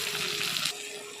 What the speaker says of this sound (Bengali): পেঁয়াজ কুচিটাকে একটু লাল লাল করে ভেজে নেব